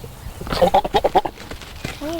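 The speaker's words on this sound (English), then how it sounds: "the Irvins recently added goats to their farm." Goats bleat on a farm that also keeps cows, horses and sheep, a quick series of wavering nasal calls close by with speech nearby.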